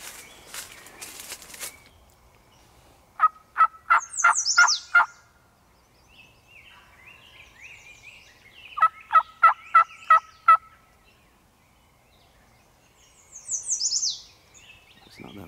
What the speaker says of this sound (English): Turkey just gobbled.